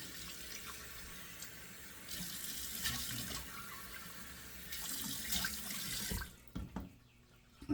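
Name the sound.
cold water running from a tap into a sink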